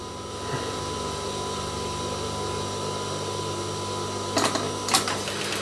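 Sewing machine stitching elastic into a three-layer fabric mask, a steady close mechanical whir running continuously, with a couple of brief sharp clicks near the end.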